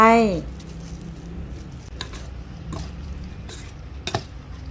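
A glass noodle and pork sausage salad with spring onion and celery is tossed and stirred, giving soft, wet scraping and occasional clinks of utensils against a bowl, after a brief voice at the start.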